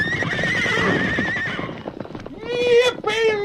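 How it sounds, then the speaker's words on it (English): Wild mustangs whinny loudly near the end, with hoofbeats and a busy, noisy background throughout. "Get that white horse away from me."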